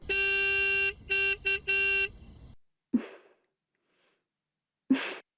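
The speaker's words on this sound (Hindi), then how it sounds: "कोई हॉर्न बजा रहा है बाहर" Car horn honking outside: a loud, steady blare that cuts in and out in several bursts, one long and a few short, followed by two faint breathy snort-like sounds.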